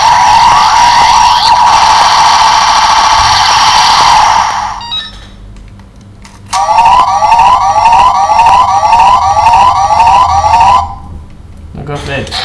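A DX Pat Striker toy from Gokaiger plays its electronic siren-like sound effect, a loud warbling wail that cuts off, pauses briefly, then repeats in a fast pulsing pattern before stopping.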